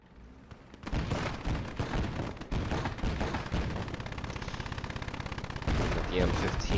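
Heavy .50 cal machine gun fire from a field mod in the Gates of Hell: Ostfront PvP battle, sustained bursts of rapid loud shots with other gunfire mixed in, hammering steadily after a quieter first second.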